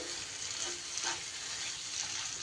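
Chopped tomato frying with spices in hot oil while cooking chicken darbari, giving a steady, fairly quiet sizzle close by that continues unbroken, with no voices.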